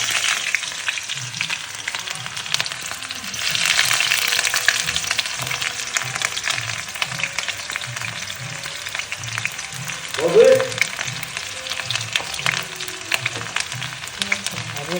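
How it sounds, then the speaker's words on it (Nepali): Dried chillies and onion fry in oil with a continuous close sizzle and occasional stirring scrapes, while a voice talks intermittently over the cooking. "अब सुक्खा खोर्सानी त्यहाँबाट प्याज"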